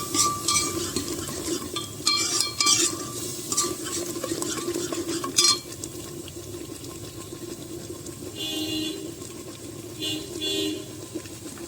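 Masala for rajma is roasted in oil in a pan, with close stirring scrapes over a soft sizzle, loud bursts early on and quieter stretches later, and a faint car horn outside.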